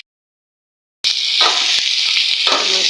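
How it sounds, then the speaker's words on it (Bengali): Fish frying in a pan, a steady loud sizzle that starts abruptly after a second of silence, broken by a few sharp clicks and scrapes as it is stirred or turned. "মাছটা ভাজা হয়ে গেছে, নামাই রাখি এখন।"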